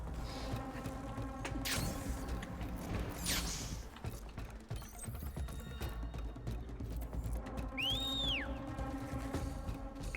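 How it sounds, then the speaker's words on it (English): A signal whistle in the video game Horizon Forbidden West rises and falls in a clear, brief tone near the end, sounding over a steady bed of buzzing, clicking mechanical noise. "the whistle's not quite as harsh anymore"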